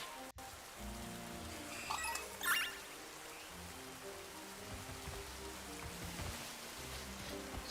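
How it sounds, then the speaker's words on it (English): Steady rain falling in the Pokemon Scarlet video game, a soft continuous patter at moderate level with a brief brighter splash early on and low game tones underneath. "It's very rainy."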